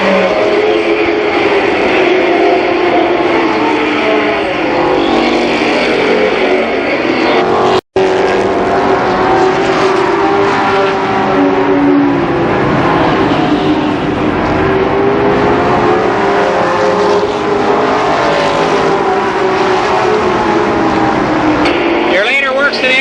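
Race cars lap Columbus Motor Speedway in 1991, a continuous loud engine roar with shifting pitch as cars pass, under steady commentator talk.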